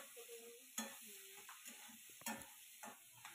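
Chopped onion frying in a wok with diced potato, tomato and peas, a faint steady sizzle under repeated scraping strokes of a spatula against the pan.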